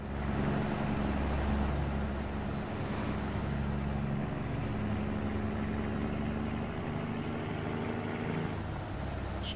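A Peterbilt 389 semi truck with a drop deck trailer cruising in American Truck Simulator, a steady loud engine drone with low rumbling harmonics and road hum throughout, plus a thin high whine that rises midway.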